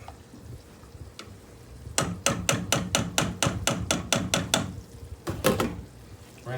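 A metal spoon stirs a pot of cooking French onion soup with beef stock, clinking about a dozen times in a quick, even rhythm against the pot. The taps are close and crisp after a quiet stretch, then two or three more follow.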